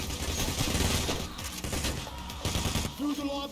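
Rapid gunfire during a Payday: The Heist bank robbery mission, dense overlapping bursts of shots running throughout at close range, loud and continuous, with no talk.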